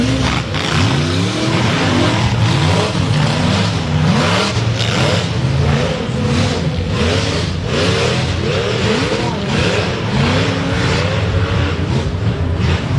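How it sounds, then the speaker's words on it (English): Whipple-supercharged racing vehicle engine screaming at high revs as it charges through a downhill section, loud and sustained throughout with constant rising and falling pitch sweeps. "you can hear that Whipple supercharged engine just scream."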